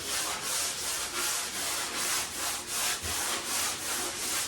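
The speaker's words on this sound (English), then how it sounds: "I'll take my sanding pad made by 3M and it's fine grit, and just do a light sand" Steady back-and-forth rubbing of a fine-grit 3M sanding pad lightly sanding painted drywall, about two strokes per second, close and fairly quiet.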